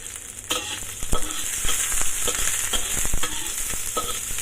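Pork with onion and garlic frying and being stirred in a pan for pork ribs with ampalaya and black bean sauce, a steady sizzle with repeated scraping stirs throughout, close and fairly loud, no talking.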